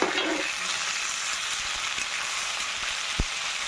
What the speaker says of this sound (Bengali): আমার আলুটা মোটামুটি অনেকটা ভাজা হয়ে গেছে